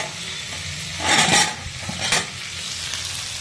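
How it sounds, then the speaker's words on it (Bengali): Potatoes and cauliflower stir-fried in a pan give a steady sizzle with two louder bursts of stirring and frying, close and clear, with no voices. "দেখো এখানে আলু আর ফুলকপি কষাচ্ছি"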